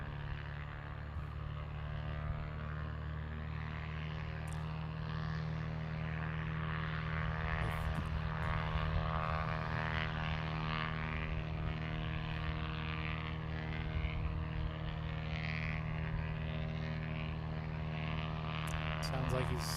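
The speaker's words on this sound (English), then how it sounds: "Sounds like he's doing his run-up." An aircraft engine runs up at Boeing Field, a steady, loud propeller drone with a strong low hum held for the whole stretch, with people talking faintly over it.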